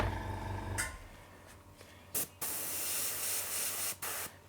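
An airbrush sprays paint onto a miniature model part, giving a steady close hiss that runs through most of the stretch, broken by a few brief louder bursts as the trigger is pulled.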